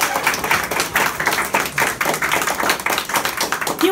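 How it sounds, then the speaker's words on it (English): A crowd claps steadily for several seconds, a dense, even patter of many hands at moderate loudness with no voices over it. "please clap for them. Please clap for them"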